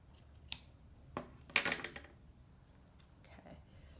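Scissors snip the yarn tail of a handmade pom-pom: three or four crisp close cuts, the loudest a quick double snip, in a quiet room.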